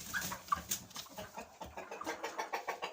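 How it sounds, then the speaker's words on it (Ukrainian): A hen sitting in a nest clucks in a soft, repeated rhythm, with other fowl sounds around, fairly close but quiet. "Курочка в гнізді сидить."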